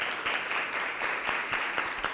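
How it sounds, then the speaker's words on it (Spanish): Soft, fairly distant audience applause at a community human-rights and citizenship talk, a thin patter of scattered claps with a few sharper individual hits standing out. "les pediría un nuevo aplauso para ellos"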